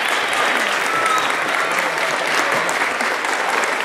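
Strong, sustained applause from an audience at a Roberto Clemente event in Orocovis, a loud, dense, even roar of many hands clapping without pause and no talking over it.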